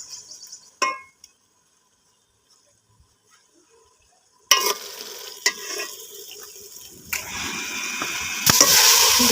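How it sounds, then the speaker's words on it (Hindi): Spices for chicken pulao being fried and stirred in a pot: near silence with a few faint ticks at first, then a sudden crackling sizzle with scraping stirs that grows louder toward the end. "मसाले की अच्छे से हम बुनाई करेंगे ताकि हमारा अच्छा सा जायका आए"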